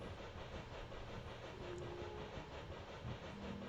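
Tram rolling steadily along rails in the video game OFF, a continuous low rumble and hiss with faint rhythmic clatter, fairly quiet and unbroken throughout.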